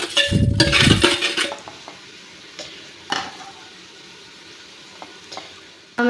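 A spoon stirs rock salt into gobi pulao frying in a pan, with a loud burst of scraping and sizzling at first, then scattered metallic clinks against the pan over a quieter fry.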